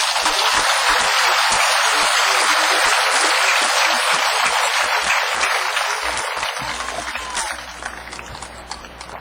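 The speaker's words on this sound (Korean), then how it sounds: "정신나게 하면 박수를 크게 해보지." A large audience bursts into loud, sustained applause in a hall during a Korean-language speech on God's homeland and the peace kingdom, steady and dense before thinning out and fading toward the end.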